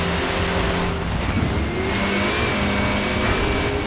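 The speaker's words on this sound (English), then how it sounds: "I'm just over revving the engine like crazy" Car engine in Forza Horizon 4 being over-revved, a loud, steady high-pitched engine drone that holds constantly throughout with no pauses or talk.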